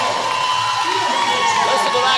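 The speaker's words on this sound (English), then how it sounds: "Listen to that crowd." Basketball crowd in a bronze-medal game between CP Allen and Sussex roaring and cheering after a made three-pointer, a loud, dense wash of voices that stays steady.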